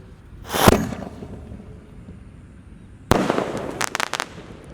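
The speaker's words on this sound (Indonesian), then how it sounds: "Bima Sakti 4 siap meluncur." A Bima Sakti 4 jumbo firework launches during a Ramadan firecracker session, giving a sharp whooshing burst followed later by a second loud crackling volley with several rapid pops close by.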